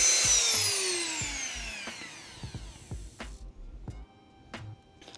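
A Dremel rotary tool cuts a brake dust shield on a bagged G35 during an Akebono big brake kit install. A high, close whine spins down over about two seconds, followed by scattered light knocks and clicks.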